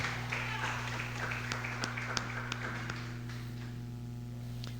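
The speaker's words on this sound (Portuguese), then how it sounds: "Palmas para o Senhor Jesus" A church congregation at a Portuguese-language doctrine service claps in scattered, uneven beats over a steady low hum. The clapping thins out and fades after a few seconds.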